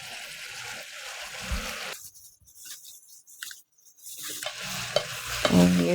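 Bulgogi with green onions is stirred in a hot Korean earthenware pot, with brief loud scraping and sizzling that drops out abruptly into near silence for a couple of seconds before the stirring and frying return.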